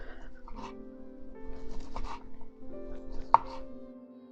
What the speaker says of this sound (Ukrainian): В першу чергу нарізаємо куряче філе дрібними пластиночками. Дуже тонесенько.